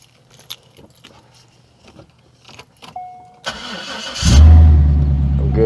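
Keys jangle and click, then a C5 Corvette engine cranks and catches, settling into a loud, steady idle close by.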